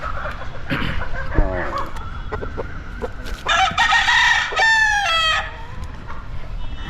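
A rooster crows loudly nearby, with chickens clucking around it and some background noise.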